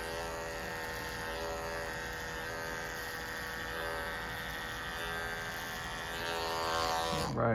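An electric hair clipper fitted with a number 1 guard cuts hair during a bald fade, making a steady close electric buzz with a faint hum that swells slightly near the end.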